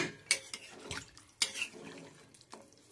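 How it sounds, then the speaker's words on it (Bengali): Water is poured into a pot of chicken and spices, a close splashing pour broken by sharp clinks and knocks of the pot and utensils. "আর খানিকটা জল দিয়ে দিচ্ছি, তাহলে ভালো করে সিদ্ধ হবে।"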